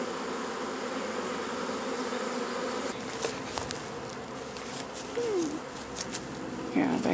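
A honey bee swarm regathering high in a tree gives off a dense, continuous buzzing drone at close range, with brief bursts of speech and a few clicks over it.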